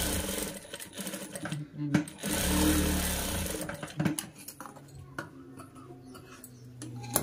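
A sewing machine stitches a child's frock made from an old saree, running in whirring bursts with ticking pauses between, and a voice speaks at times.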